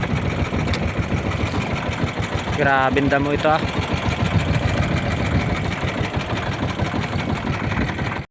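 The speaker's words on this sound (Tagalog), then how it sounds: "papatayan natin ang makina" A fishing boat's engine idles with a steady, loud mechanical chug throughout while someone talks over it, and a brief rattling rev mid-way.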